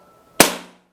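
One sharp, short crack of a big-game air rifle firing during target grouping, with a brief fading tail, alone in near silence.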